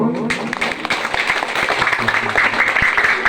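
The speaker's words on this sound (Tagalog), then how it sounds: "Palakpak ang mga kabataan." Young people at an evening church gathering clap together in a steady, moderately loud round of applause, with a faint voice underneath near the start.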